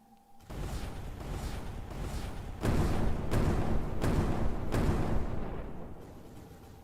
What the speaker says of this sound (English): Big explosion, too.